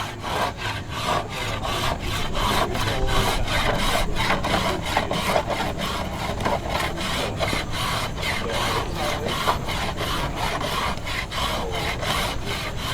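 Hand carving a wooden bow limb: rhythmic, repeated scraping strokes of a blade or rasp on wood, close and steady, several strokes per second with no speech.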